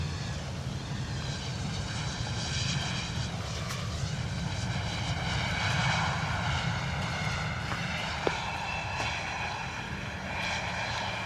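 Private jet engines at a misty London Luton Airport make a steady, loud roar with a rising whine through the whole stretch, like a nearby aircraft taxiing or lining up on the runway.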